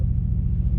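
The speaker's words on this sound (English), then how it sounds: "the turbos do make that an induction noise" Deep, steady engine rumble from a tuned Mercedes-AMG C63 GTS with turbochargers, a brief, close, continuous drone with a low pulsing throb.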